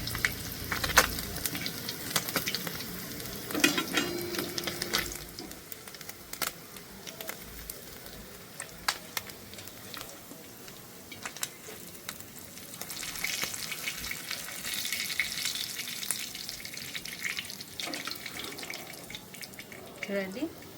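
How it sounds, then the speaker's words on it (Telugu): Bangda mackerel frying in a pan, turned over and over for about five minutes, giving a steady close sizzle and crackle with clinks and bumps as the fish is flipped, while someone talks throughout. "అటు ఇటు తిప్పుకుంటూ ఒక 5 నిమిషాల వరకు ఫ్రై చేసుకున్నా"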